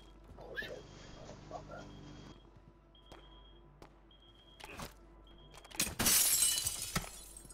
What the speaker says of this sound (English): You break glass?